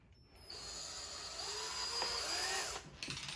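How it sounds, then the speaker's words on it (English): A power drill whines steadily for about two and a half seconds, its pitch shifting slightly as it bores through, then stops abruptly. "So we're going to drill a hole here."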